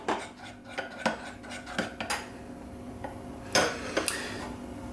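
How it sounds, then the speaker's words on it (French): A spoon stirring a homemade candy mixture in a bowl, with repeated clinks and scrapes against the bowl in an uneven rhythm, close and fairly quiet. "Là, je mélange."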